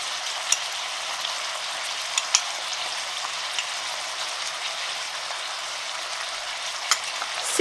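Lamb with crushed garlic, chili and spices fries and is stirred in a pot for a tagine, giving a dense, even hiss and crackle with occasional sharp pops and no talk.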